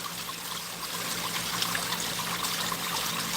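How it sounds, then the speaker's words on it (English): Pond water trickles and splashes steadily beside a garden waterfall, flowing back into a crack behind it, a continuous close bright splashing with no talk over it. "Backflowing right into that crack there"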